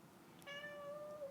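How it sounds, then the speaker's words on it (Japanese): A cat gives a single drawn-out meow, close and fairly clear, rising from quiet indoor room tone and holding steady for almost a second. "ちょっと猫様が起きてきてしまったな。"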